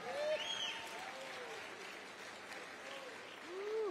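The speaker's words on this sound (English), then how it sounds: "How about a round of applause for our festival director?" An outdoor heritage dance festival crowd claps for the festival director, a steady spread of applause lasting several seconds, with voices and whoops rising over it.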